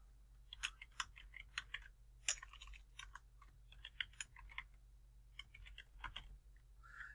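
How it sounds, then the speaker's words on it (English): A password is typed on a computer keyboard, a quiet, close run of irregular key clicks in short bursts with brief pauses and no talking. "And then you want to type in a password."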